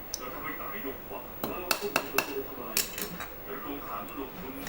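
A few light metallic taps from a hammer gently knocking a part into an electric fan, in quick succession, close by and moderately loud, with a short pause before a second cluster of taps.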